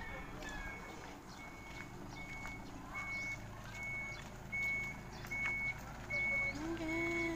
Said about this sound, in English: Patras ang truck.